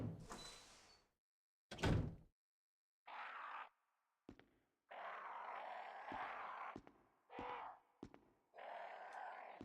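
Doors opening in the video game Resident Evil, a series of separate creaking and sliding bursts with sharp thuds between them, close and distinct against silence, with no talk.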